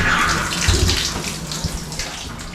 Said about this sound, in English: Tub and shower working, hot and cold shower works.